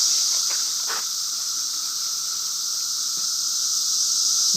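Steady, loud cicada drone from insects up in forest trees fills the whole stretch as a continuous hiss, with only a couple of faint knocks and no talking.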